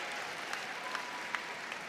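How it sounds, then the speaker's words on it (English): Crowd applause at the Crufts dog show during terrier group judging, a steady dense clapping wash from a large indoor audience, with a few louder claps standing out. "And listen to that crowd."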